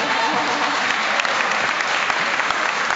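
Audience at a national radio gathering gives a steady, fairly loud round of applause, dense clapping sustained across the whole moment.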